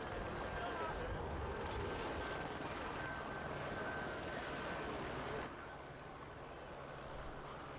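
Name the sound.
civil security helicopter flying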